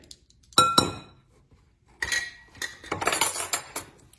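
A metal spoon stirs black walnut cake batter in a bowl, knocking and clinking against the sides in quick bursts separated by short pauses. Close and crisp, with no voices.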